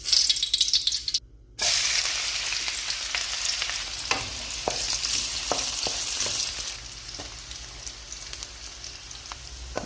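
Hot cooking oil sizzles steadily in a heated pan before chicken pastil goes in, a loud continuous frying hiss broken by a brief gap, then resuming with occasional stirring clicks and scrapes.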